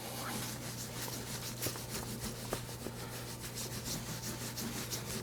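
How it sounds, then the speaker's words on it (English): Antiquing gel rubbed by hand into a tooled leather fast-draw holster, a steady close rubbing and scrubbing texture with rhythmic strokes over a low constant hum. "Get a little bit of the antiquing gel on here, and we'll rub it in real quick."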